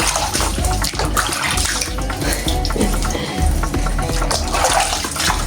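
Tap water gushes loudly and steadily into a tub or sink while hairless sphynx cats are bathed, a continuous close splashing stream with small shifts in the flow and no speech.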